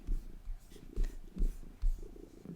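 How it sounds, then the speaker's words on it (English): A cat purrs close by, a soft, low rumbling that pulses steadily about twice per second and stays quiet throughout. "We have a cat. I don't know if you can hear that."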